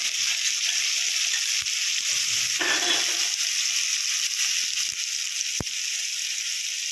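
Ground poppy seed paste fries in hot oil with turmeric, giving a continuous close bright sizzle with a brief louder bubbling burst partway through.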